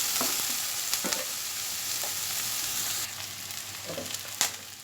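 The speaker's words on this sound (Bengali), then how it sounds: "এটা আমি মিডিয়াম আঁচে ফ্রাই করে নেব" Lote fish paste fries on a medium flame with a steady, close sizzling hiss, broken by a few soft stirring scrapes and small pops, with no voices.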